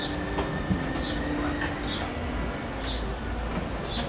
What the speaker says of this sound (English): Thanks for joining us on the Disneyland Railroad.